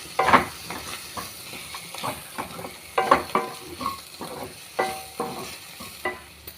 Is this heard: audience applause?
no